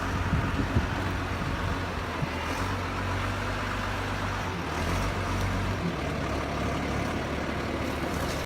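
Road vehicle engine droning steadily nearby, a loaner car arriving with a continuous low rumble and broad road noise for several seconds, alone without talk.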